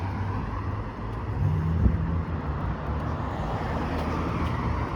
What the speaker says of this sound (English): There's another one of those cars again.